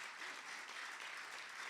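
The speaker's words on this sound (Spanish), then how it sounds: "Denle un aplauso al Señor" Church congregation applauding during a sermon, a steady, dense wash of clapping that fills the whole moment without pause.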